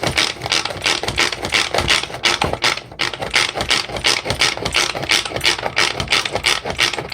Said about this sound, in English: this is the manual food processor